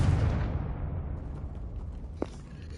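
A Bombarda or Confringo spell explodes in the Hogwarts Legacy video game as a deep, loud boom that rumbles and slowly fades over a couple of seconds, followed by a single small pop; no speech.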